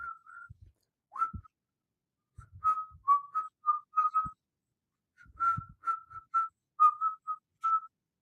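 A person whistles short high tweets and trills in several quick bursts separated by silences, close and clear with no other sound.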